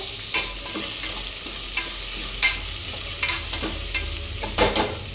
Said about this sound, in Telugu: ఇవి మొత్తం బాగా ఫ్రై చేసుకోవాలి.